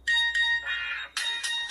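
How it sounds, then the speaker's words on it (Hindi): Custom ringtone with background music and a synthesized voice speaking a name, made as a personalized name ringtone; bright tonal musical phrases in a few short bursts, fairly loud and close, with no other talk. "तो आपने देखा यहाँ पे बैकग्राउंड म्यूजिक के साथ जो रिंगटोन में हमारा नाम भी बोल रहा था।"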